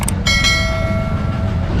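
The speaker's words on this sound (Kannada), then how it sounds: "ಟ್ರೈನ್ ಅನ್ಸುತ್ತೆ ಬ್ರೋ" A train passes loudly on the route to Ayodhya, a sustained tonal horn-like wail over heavy rumbling rail noise, close and continuous.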